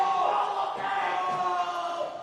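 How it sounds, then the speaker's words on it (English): A football crowd at a Tasmanian State League match between Clarence and Launceston roars in reaction to a contest on the ground, a sustained loud wave of massed voices with a commentator talking over it. "I'm sure you can hear what the crowd thought of that contest"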